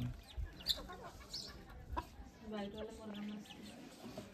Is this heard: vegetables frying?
no